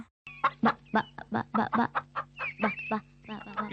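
Large chickens cluck close by in a quick, uneven run of short bursts, with a few longer drawn-out calls mixed in.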